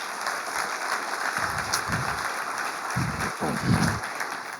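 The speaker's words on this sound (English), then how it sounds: "clap for yourself" A school audience keeps applauding in a steady, moderately loud wash of clapping, while a few low voices or thumps cut in briefly underneath.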